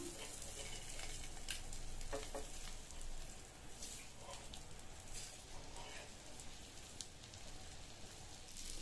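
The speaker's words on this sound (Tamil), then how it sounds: "எல்லா முட்டையும் மறுபடியும் இந்த சைடு ஃப்ரை ஆகுற மாதிரி பரட்டி போட்டுக்கலாம்" Eggs frying in a pan and being flipped over, a steady rain-like hiss of sizzling oil with a few faint scraping touches, soft and even throughout.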